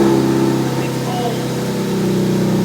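Mazda Miata NC engine running cold at a steady, rough idle, a continuous low drone close by with no pauses.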